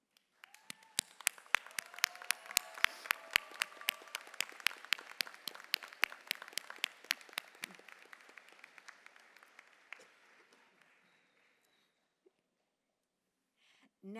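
Graduates and their audience applaud at a law school commencement, a burst of sharp separate claps that swells, then thins out and fades to near silence.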